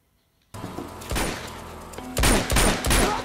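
Gunfire in a Nathan Drake video game, a dense volley of several loud close shots in quick succession after a short silence, with no talk over it.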